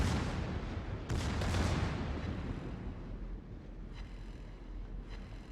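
Secondary battery guns of a German warship firing in the naval game World of Warships, booming shots and low rumble layered over constant wind and sea noise, with sharper reports standing out amid the continuous din.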